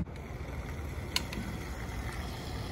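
A Chevy S10 pickup engine idles nearby with a low, steady rumble, one faint tick partway through, and no voices.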